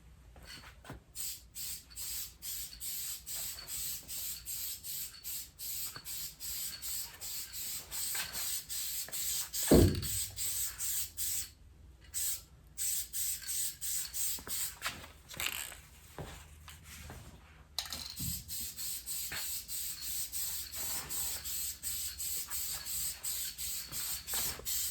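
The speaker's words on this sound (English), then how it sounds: "we'll obviously spray this, but then we'll spray at an angle to get it on the corners here as well" Adhesive is sprayed onto the bed of a Valley/Dynamo pool table in short repeated bursts of close hissing spray, each separated by brief pauses. A couple of louder knocks and thumps of handling break up the bursts.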